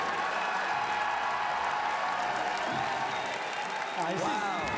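A large arena crowd at the Pokemon World Championship applauds and cheers steadily, a dense wash of clapping and shouts with a few voices rising near the end.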